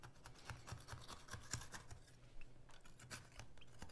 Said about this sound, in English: Take the knife and just cut around the sides as close to the pan as possible.